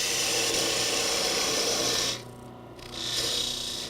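A parting tool scrapes into a spinning wood Christmas ornament blank on a lathe, a continuous rough rasping cut that eases off briefly and then resumes.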